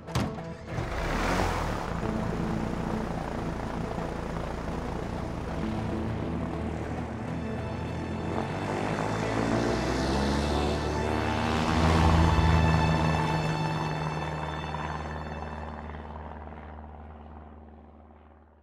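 Small propeller airplane engine in the video game A Way Out, a steady droning hum with harmonic whine that swells louder toward the middle and then holds as the plane runs, with no talking.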